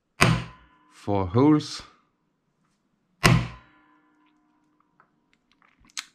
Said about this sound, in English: We try to put the center punch exactly in the markings, and then we punch it.